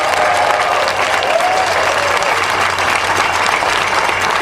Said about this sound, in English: Let's give all of our workers a big round of applause